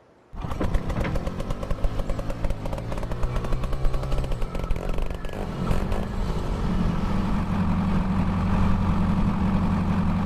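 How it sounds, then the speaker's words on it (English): A small pony motor cranks and starts a tractor's main engine in Farming Simulator 22, a steady rattling mechanical drone that settles into a deeper, continuous idle, loud and close with no talk. "it's got a small motor that'll start first, and that motor starts the engine"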